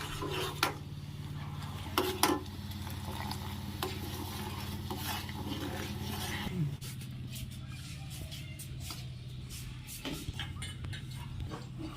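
A spoon stirs sugar syrup in a pot, with soft scraping strokes and a few sharper knocks against the rim over a low bubbling sizzle; a faint hum drops out midway.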